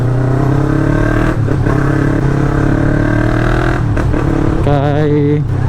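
A Yamaha MT-03 300cc motorcycle rides along a coastal road, its engine droning loud and steady up close, with a brief dip in pitch and a rising rev near the end.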